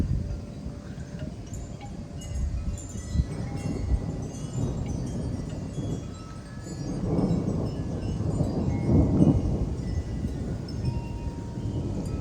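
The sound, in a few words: thunderstorm with thunder, rain and wind gusts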